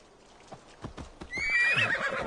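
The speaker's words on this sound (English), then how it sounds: "We're gonna call a horse." A horse in the video game Assassin's Creed Valhalla trots in with rhythmic hoofbeats, then lets out a loud, bright whinny that fills the last second.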